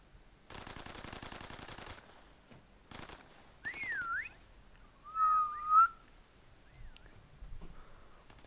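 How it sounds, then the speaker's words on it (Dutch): Short human whistles, rising and falling warbled tones repeated a few times, heard between bursts of rapid automatic gunfire in a WW2 prop hunt shooter game; fairly clear and close, no speech. "Als ik zelf fluit, dat werkt natuurlijk niet"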